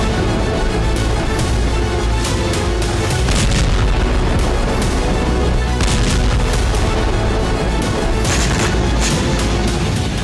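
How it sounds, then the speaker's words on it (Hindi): Heavy explosions and booming blasts from a Ukrainian strike on Russia's Syzran oil refinery in Samara, with repeated loud thuds and crackling bursts continuing over a constant dense roar of fire and noise, no voices. "धमाके से रिफाइनरी में भीषण आग लग गई।"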